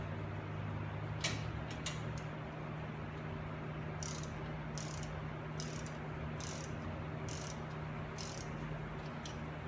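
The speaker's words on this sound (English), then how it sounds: "So I put one bolt through the back and I'm gonna try to pull it in." A hand ratchet tightens a bolt to draw a wheel bearing into a Nissan 350Z hub, with a few quick clicks followed by a run of six evenly spaced ratcheting strokes. The strokes are close and crisp over a low steady hum.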